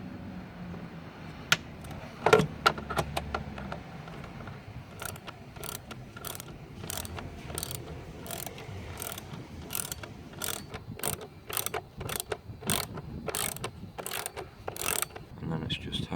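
Ratchet undoing the 10 mm bolts on a Ford Fiesta Mk6 air filter box, a steady series of quick, close clicking bursts repeating across the whole stretch over a low workshop background.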